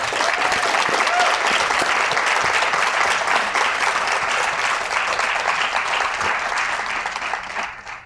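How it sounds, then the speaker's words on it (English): A conference audience at a live self-publishing show gives a big round of applause, steady dense clapping from many hands close by that holds loud throughout before fading at the end. "Big round of applause."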